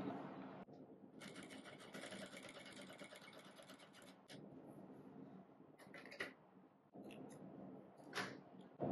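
A sewing machine stitching a churidar neck runs in a steady, quiet mechanical whir for several seconds, pauses briefly, then restarts in shorter bursts with small clicks as the fabric is turned.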